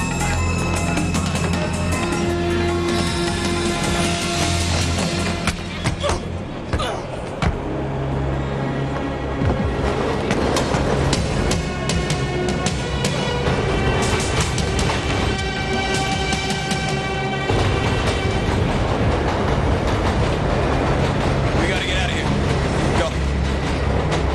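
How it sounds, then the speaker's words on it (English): A steady rumbling and clatter of a train rolling along tracks, with scattered voices and noise over it. "Jim, this is the train."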